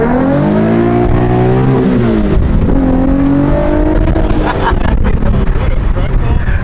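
A loud Infiniti G37 engine runs steadily, its pitch rising and falling as it revs, with people talking over it.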